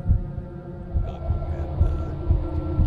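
Low, steady heartbeat warning thumps from the horror video game Smol Scares: The Karaoke, pulsing repeatedly over a humming background as the threat draws near.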